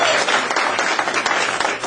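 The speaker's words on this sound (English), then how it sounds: "Clap around." A comedy club audience claps briefly after the comedian's prompt, a short dense burst of applause from the crowd with busy, uneven hand claps.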